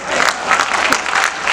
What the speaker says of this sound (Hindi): शायद आपकी तालियां उठे